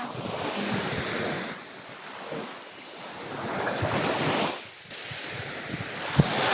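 Small ocean waves wash onto a beach at Talipasak in a steady surf roar that swells and ebbs, mixed with gusty wind buffeting the microphone, with no voices.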